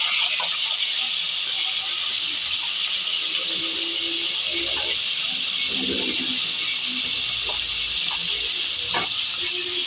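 Onions sizzling in hot oil for a bitter gourd curry, a steady bright hiss with occasional pops and spatters, and a voice speaking now and then over it.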